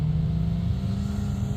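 Side-by-side off-road vehicles drive along a dune road at Hauser Dunes, giving a steady, close engine drone with a low rumble that holds throughout.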